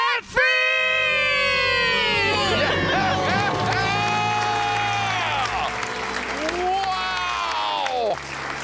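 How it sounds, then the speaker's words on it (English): A crowd screaming and cheering loudly at a celebration, sustained high-pitched shrieks and whoops over clapping, close and continuous with a brief dip midway before another surge. "Let's hear a debt-free scream."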